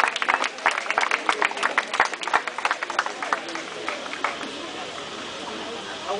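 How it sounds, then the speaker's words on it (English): Applause from an outdoor crowd at a peace vigil in North Minneapolis, scattered irregular claps fairly faint and thinning out over several seconds. "Can we just give a round of applause to each person"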